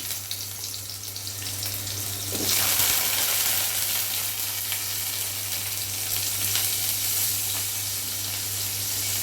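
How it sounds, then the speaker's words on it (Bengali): Raw mango pieces frying with mustard seeds in oil in a wok, a strong sizzle that swells as the pieces go in and then stays steady, with a low constant hum underneath. "সর্ষে ফোড়ন দিয়ে আমি এই কাঁচা আমগুলো কেটে রেখেছি সেগুলো দিয়ে দিচ্ছি"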